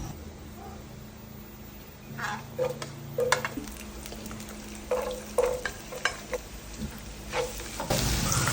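Meat for dinuguan frying in a pan and stirred, with soft sizzling beneath a string of scraping, clinking utensil strokes; moderately loud and close, growing busier toward the end.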